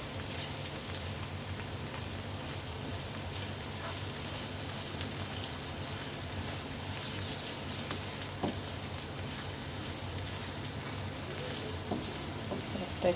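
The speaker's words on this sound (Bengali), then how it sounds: "পেঁয়াজটা ভেজে নিচ্ছে।" Onion fries in a pan for a Bangladeshi dish, giving a low, continuous sizzle and crackle that holds steady throughout with no voices over it.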